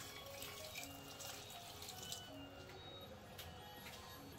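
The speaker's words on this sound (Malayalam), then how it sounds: "കുറച്ച് വെള്ളം ഒഴിക്കുക." Water poured into a pressure cooker over masala-coated chicken, a steady continuous splashing and trickling that runs throughout, moderately loud and close, with no talk.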